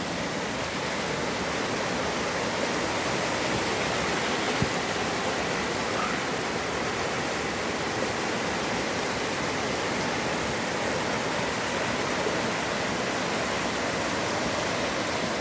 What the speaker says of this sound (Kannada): ನೀರೇ ನೀರು ನಿಮ್ಮೂರಲ್ಲಿ ಹೇಗಿಂಟು